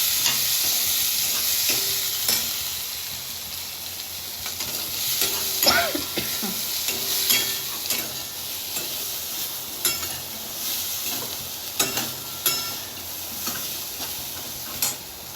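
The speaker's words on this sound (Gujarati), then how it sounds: "બરાબર મિક્સ કરી દઈશ." Food being mixed in a hot pan, sizzling and frying steadily, with scraping strokes and clicks of a utensil throughout, close up.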